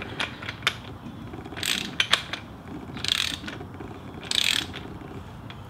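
A ratchet clicks in several short bursts while a fork cap on a Honda Shadow motorcycle fork is tightened, crisp close metallic pawl ticks separated by brief pauses, with no talking.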